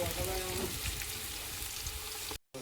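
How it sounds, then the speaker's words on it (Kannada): Onions frying in hot oil for biryani, giving a steady, close hiss and crackle that runs for a couple of seconds before cutting out abruptly near the end. "ಉಳ್ಳಾಗಡ್ಡಿ ಫ್ರೈ ಆಕತ್ತ"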